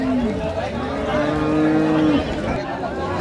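A cow lets out a long, loud moo close by at Ambari cattle market in Dinajpur, Bangladesh, with a low murmur of crowd noise underneath.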